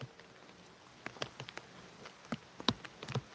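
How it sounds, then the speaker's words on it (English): Scattered light taps and ticks of rain land irregularly on a hard cover above a camera, sparse drops against a faint steady background hiss. "That is actually the rain just hitting the cover that I have above the camera."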